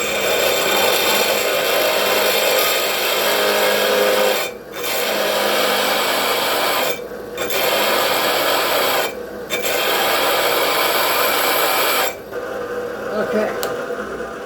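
A drill bit bores through wood at a set 3,100 RPM, giving a loud, steady rasping grind with three brief pauses and a quieter stretch near the end, no talking.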